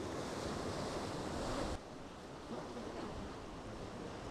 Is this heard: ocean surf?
yes